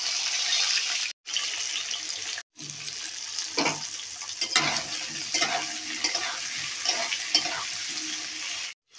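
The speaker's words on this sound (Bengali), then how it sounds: "সেই বেগুনগুলো আমি তেলে দিয়ে দেবো।" Eggplant pieces fry in hot oil in a home kitchen, hissing up close with repeated stirring clatters and a few abrupt brief breaks.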